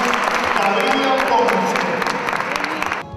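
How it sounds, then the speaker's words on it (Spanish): Crowd applause at a Teacher's Day school event in Cañuelas, steady clapping with some voices and faint cheering before cutting off abruptly. "fuerte el aplauso para recibirla."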